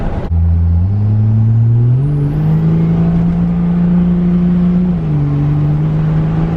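A diesel pickup truck accelerates hard with its tires spinning, a loud, close engine roar climbing through several gear shifts in one long continuous pull, with no talking.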